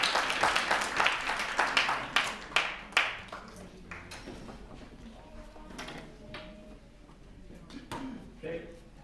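Applause for General Matt Placken at a gathering, a burst of clapping from the crowd that starts strong, thins into scattered claps and dies away, with voices murmuring underneath.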